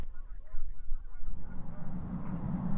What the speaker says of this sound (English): These Canada geese were digging through it to get at leftover grain.